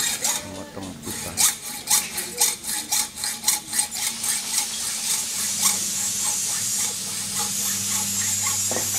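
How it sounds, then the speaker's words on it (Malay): A metal pipe is cut by hand with a saw during welding work on a fork-shaped trash tool, a rhythmic run of rasping strokes that gives way to a steadier grinding hiss near the end. "Memotong pipa."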